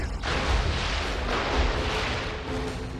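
A bomb blast in the PS2 game God of War, a deep booming explosion with rumbling low end that swells and lingers across the whole stretch, loud and close with no talking.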